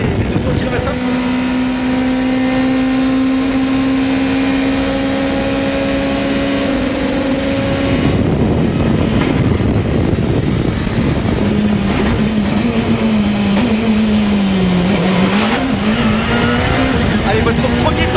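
A Mégane rally car screams along a very fast stage at close to 200 km/h in the Rallye Vosges Grand Est, a steady high engine note rising and falling through gear changes, loud and continuous, with commentary voices over it.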